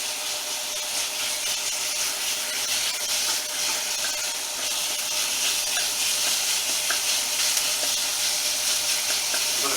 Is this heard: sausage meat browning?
yes